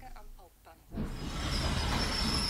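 Busy main train station ambience: a brief murmur of distant voices, then a steady wash of rumbling rail noise and crowd hubbub.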